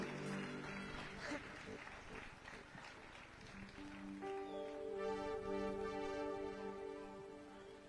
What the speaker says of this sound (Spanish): Ahora dele un aplauso al Cristo que le bendice y que está con usted siempre.